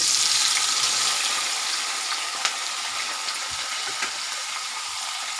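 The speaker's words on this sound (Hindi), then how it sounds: "यहाँ मैंने लिए लोहे की कढ़ाई, उसमें डाला है सरसों का तेल और मैं इस पनीर के पीसों को गोल्डन ब्राउन करूँगी" Paneer pieces fry in mustard oil in an iron wok, giving a dense, steady, close sizzle with a few soft clicks and pops and no talking.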